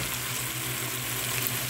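Chicken and onion fry together in a pan with a dense, even sizzle that holds steady and close throughout the brief moment, without any voices.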